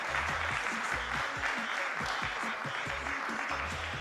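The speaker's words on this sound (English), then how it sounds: "with a big applause" An audience at a women's 10m air rifle SH1 world championship in Lima gives steady applause for a German shooter, a moderate, even spread of clapping that is heard alone.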